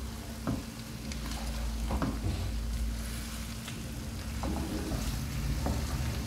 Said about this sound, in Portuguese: Ervilhas, e vou misturar aqui